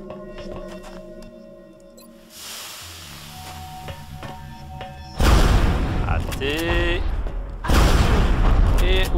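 A gunfire volley in the XCOM Enemy Within video game bursts out in two loud, dense crackling stretches after a quieter passage of synth tones and game sounds, with someone speaking over part of it.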